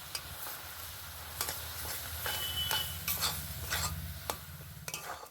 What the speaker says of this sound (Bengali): তো এখানে অল্প অল্প করে দেবো আর ভালো করে একটু নেড়ে চেড়ে মিশিয়ে নেব